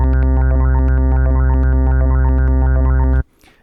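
A dense, buzzing Massive synthesizer wavetable tone churns with jittery random-step LFO modulation for about three seconds, then cuts off abruptly into faint residue.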